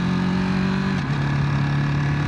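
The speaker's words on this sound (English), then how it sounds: "let you guys hear that exhaust" A 2025 Ducati Monster motorcycle exhaust drones steadily up close while riding, its engine note holding, dipping briefly after a shift, then settling into a lower steady hum.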